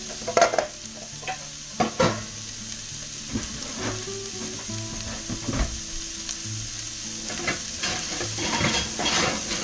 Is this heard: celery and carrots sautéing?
yes